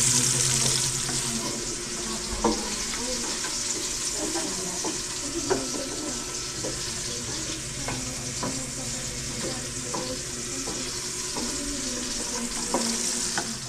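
Food browns in a frying pan with a continuous close sizzle, broken by scattered clinks and scrapes of stirring.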